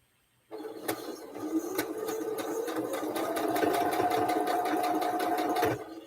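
A sewing machine stitching a 6 1/4 inch seam while making a quilt, running steadily and fairly close for about five seconds after a sudden start, with a faint rising whine before it stops.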